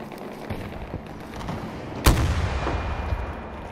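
A rocket launcher fires in the video game Battlefield 2042 as one sharp, loud blast rises out of steady gunfire and battle noise, followed by a rumbling tail.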